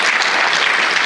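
Dense, steady applause from a conference audience at a DevFest Gandhinagar tech talk on Flutter, a brief continuous burst of many hands clapping at close range.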